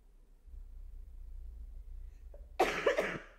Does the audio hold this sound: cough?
yes